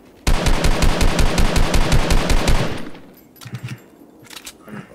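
Rapid automatic gunfire in the Fortnite video game, a close, loud burst of about fifteen evenly spaced shots lasting over two seconds, followed by quieter scattered shots further off.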